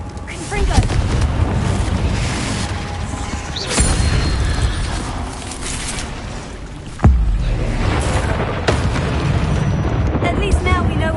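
Confringo spell explosions in the Hogwarts Legacy video game, several booming blasts with a sharp crack near the middle, over a continuous roaring rumble, loud, with voices mixed in.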